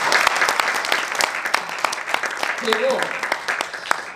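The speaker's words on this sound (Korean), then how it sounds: "우리 박수를 한번." Audience applause at a party founding rally, dense steady clapping from a crowd filling the hall throughout, with a voice speaking briefly over it.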